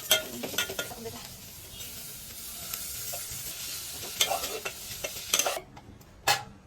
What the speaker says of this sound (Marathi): थोडेसे परतावे मग टोमॅटो टाकावं, कारण की गाजर थोडीशी कडक असतात